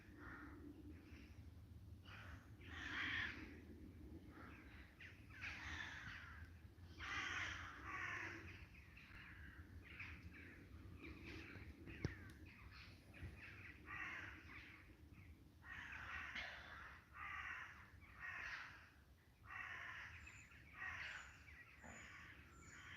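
Crows caw outdoors in repeated harsh bursts, sometimes several in quick succession, over a quiet rural background. The birds are moderately distant and faint, with soft ambient noise between the calls.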